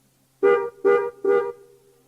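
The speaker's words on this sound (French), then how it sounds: "Le klaxon." Three short, loud car horn honks in quick succession, close by, with nothing else around them.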